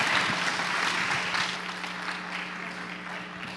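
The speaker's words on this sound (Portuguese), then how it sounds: "Uma salva de palmas para o pastor" A church congregation gives a pastor a round of applause, a full, steady clapping that starts loud and slowly thins out over a few seconds.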